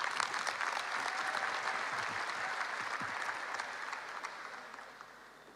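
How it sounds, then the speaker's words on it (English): An audience at an International Youth Day event applauds steadily, a dense, continuous patter of clapping hands that slowly fades toward the end. "Let's give him a warm round of applause as he comes out here on stage, Ishmael Bear."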